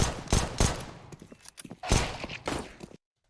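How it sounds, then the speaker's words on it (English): Gunshots in a video game, fired at a wall: several sharp, loud cracks in quick succession, grouped into two clusters with a scattering of smaller clicks between them. "You see how he kind of shot the wall where the guy was?"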